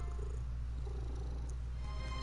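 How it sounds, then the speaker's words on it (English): A cat purrs in the Dragon Quest Heroes video game, a steady low rumbling purr that runs unbroken and fairly quiet with no talk over it. "Kitty purrs."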